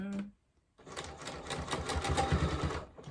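A sewing machine stitching a towel wrap runs in a steady rapid whir after a short pause, its fast needle clatter close and fairly quiet.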